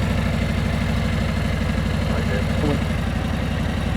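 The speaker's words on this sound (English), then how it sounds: "Listen to that engine." A motorcycle engine runs in first gear at a steady, low, rumbling idle-like pace during slow-speed riding practice, loud and continuous throughout with no break.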